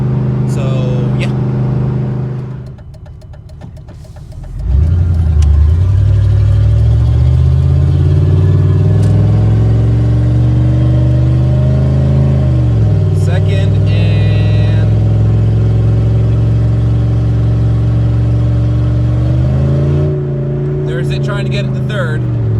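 A car engine revs hard as the transmission fails to shift into third gear and drops to neutral. The engine drones loudly, rising and falling in pitch, with a brief dip early on, while a person talks over it.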